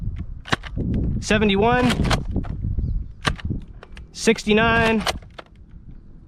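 Nerf Modulus Tri-Strike blaster firing darts through a chronograph: sharp, close snapping shots spaced apart, heard among someone speaking.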